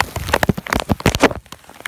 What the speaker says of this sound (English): It is a torrential downpour.